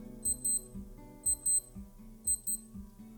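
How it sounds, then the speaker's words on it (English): Quiet, high-pitched alarm beeps from a Casio AE1200 digital watch come in three evenly spaced bursts of quick double chirps over a low background hum. "it will give a beeping sound like this"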